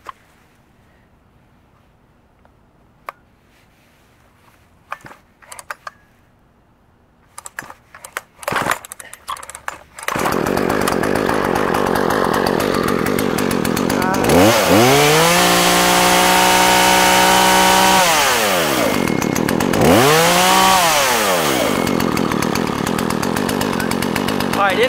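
A chainsaw is started after some handling noises, then runs loud and steady close by on a 51-degree day, its engine revving up and dropping back twice before settling into a continuous idle-to-high roar.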